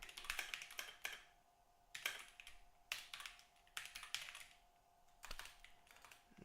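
Typing on a computer keyboard in bursts of rapid, close clicky keystrokes with short pauses between, alone and fairly quiet.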